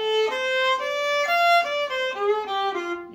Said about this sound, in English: So that's the pentatonic scale